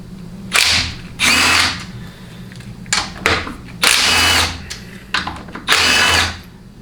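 Power tool, likely an impact driver, removing the half-inch bolts of the low reverse servo cover on a burnt remanufactured TH400 automatic transmission during teardown, in six or seven loud, close bursts of about half a second each, separated by short pauses, with no talking.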